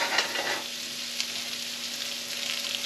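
Onions frying in a tablespoon of butter over medium heat, a quiet even sizzle with a brief crackling burst at the start and faint hiss continuing steadily, no voices.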